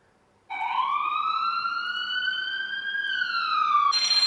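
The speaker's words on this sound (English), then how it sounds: "like the siren of an ambulance" A loud wailing siren sweeps slowly up then down in one long tone, close and steady, with no voices.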